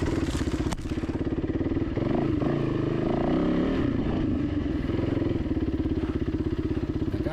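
Off-road motorcycle engine chugging at steady low throttle while crossing an off-camber rock, close and continuous with a brief rise in revs, no talking.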